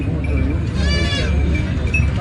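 Goats on a goat farm bleat loudly and close in a sustained, wavering cry over a dense, noisy farmyard background.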